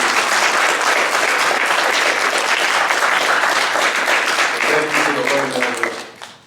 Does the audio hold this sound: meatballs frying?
no